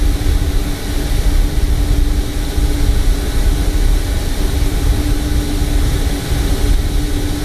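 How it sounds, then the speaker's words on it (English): CFM LEAP-1 turbofan jet engine spooling up with a wailing tone in Microsoft Flight Simulator, a steady loud drone with a constant low hum throughout. "the iconic CFM Leap 1, wailing sound"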